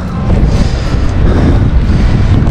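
Strong wind at sea during solo fishing from a boat, loud continuous rumbling buffeting against the microphone with surf-like wash, no talk.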